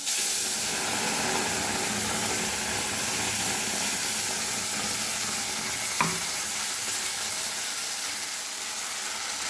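Ground spice paste hits hot oil in a pan for a katla fish curry, giving a loud, steady hiss and sizzle that lasts throughout, with one brief clink partway through.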